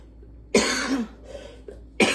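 Two harsh, close coughs, one early and one near the end, separated by a short, breathy pause.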